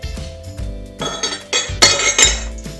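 Chopped carrots and celery for a raw vegan stuffing being stirred in a bowl, giving a quick run of close, loud clinks and scrapes of a utensil against the dish, with no talking.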